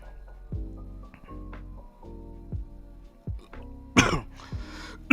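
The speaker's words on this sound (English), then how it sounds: "Sorry guys, I had to cough." A person gives a sudden, sharp cough, with a throat-clearing sound, near the microphone over soft tonal background music, and a second burst follows at the end.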